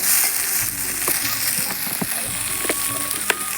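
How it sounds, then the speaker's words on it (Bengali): New potatoes fry in a pan alongside other potatoes, giving a steady low sizzle with a few scattered pops and light scraping clicks throughout. "এর মধ্যে কিছু নতুন আলু দিয়ে দিয়েছি, একসঙ্গে ভেজে নিচ্ছি আর কি।"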